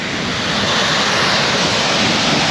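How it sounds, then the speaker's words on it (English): Jungle waterfall on a hike near caves at La Planta, Arecibo, Puerto Rico, a loud, continuous broadband roar of falling water close by, with no voices over it. "This is the first waterfall."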